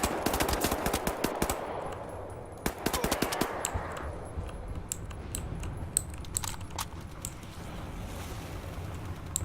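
Machine gun firing in the shooter video game Wolfenstein: The New Order, rapid bursts of sharp shots with metallic clinks of spent casings, fairly close and loud over a rumbling background.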